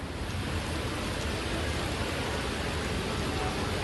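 Heavy rain in Jodhpur, a dense, steady roar of falling water with no breaks, continuous and even throughout, with no voices.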